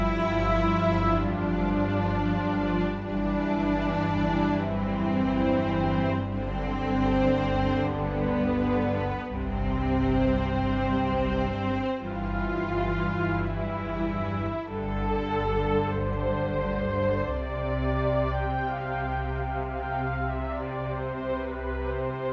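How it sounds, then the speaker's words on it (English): Classic Orchestra 2 strings patch from iSymphonic 2 on an iPad, sustained orchestral string chords moving through slow, smooth changes, rich and continuous with no speech. "part one, strings here, is Classic Orchestra 2"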